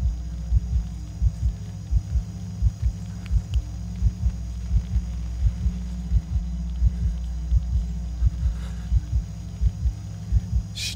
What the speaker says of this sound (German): Herzschlag wird krasser.